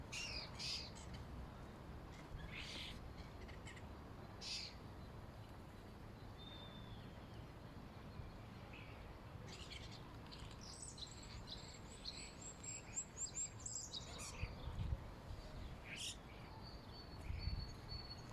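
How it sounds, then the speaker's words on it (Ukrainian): Starlings call outdoors with scattered squawks, whistles and chatter rising over a constant bed of insect buzzing, fairly faint and distant with busier bursts toward the end. "А зараз пропоную трошечки за шпаками поспостерігати і послухати."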